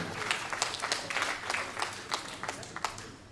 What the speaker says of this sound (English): Please a big hand of applause, ladies and gentlemen.